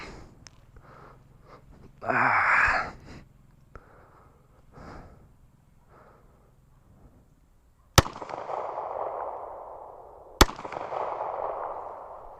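Two sharp, loud Glock pistol shots with freshly replaced sights ring out several seconds apart on an outdoor range, each followed by a lingering rumbling echo, after quieter handling noises and a brief burst of rustling.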